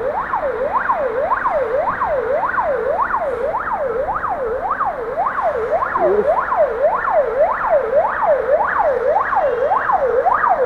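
Ambulance siren wailing in a steady, rapid up-down yelp for the full stretch, loud and continuous over city ambience, heard from a high viewpoint overlooking Samara.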